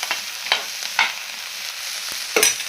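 Vegetables for chana masala, including tomatoes, sauté and sizzle in a hot oiled pan, with close, intermittent stirring scrapes and clinks over a steady frying hiss.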